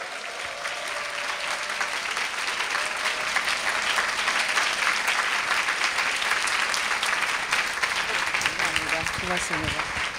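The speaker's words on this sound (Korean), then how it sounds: "박수로 환영하겠습니다." Sustained audience applause welcoming a guest missionary lecturer at a school invited-talk event, steady dense clapping filling the room for about ten seconds with faint voices mixed in.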